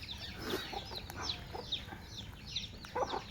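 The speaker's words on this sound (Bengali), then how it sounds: "অসাধারণভাবে খাইতেছে মুরগিগুলা" Bengali native deshi chickens feed on a farm, letting out a run of repeated clucks and short squawks at close range over a low background murmur.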